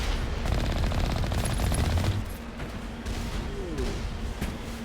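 Rapid machine-gun bursts and gunfire from Mass Effect Legendary Edition on Xbox rattle loudly for the first two seconds, then continue as quieter, scattered shots.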